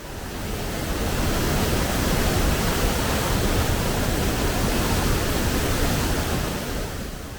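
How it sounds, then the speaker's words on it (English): Kani Bil, a roaring mountain spring near Hajij village in Kurdish Iran, gushes out like a waterfall toward the Sirvan River, a dense, steady rushing roar of water filling the whole stretch without pause. "Kani Bil is a roaring spring that comes out of the heart of the mountain like a waterfall and goes to the Sirvan River"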